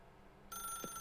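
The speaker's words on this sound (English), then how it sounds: "Now pick up the phone." A telephone rings in The Stanley Parable video game, one shrill bell burst starting halfway through and holding steady at moderate loudness after a quiet lead-in.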